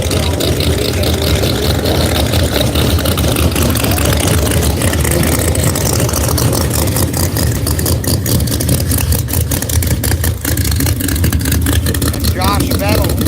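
A Racing Oil Camaro drag car with a roughly 136 mm ProCharger roars at loud, steady volume at a St. Louis qualifying event, with crowd and track noise around it and an announcer talking over it.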